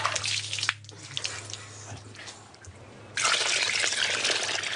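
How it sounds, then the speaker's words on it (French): Ice-cold water splashes and trickles as someone rinses off after muddy work in Bangladesh, a steady close pour that softens midway, then returns as a louder, denser stream. "Je me rince d'abord à l'eau glacée."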